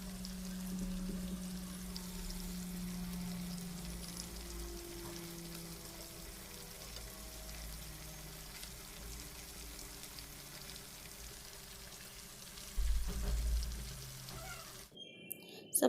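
Fenugreek seeds and three spoonfuls of garlic-ginger paste fry in hot oil, left over from frying fish pieces, giving a faint, steady sizzle and crackle with a brief louder bump near the end.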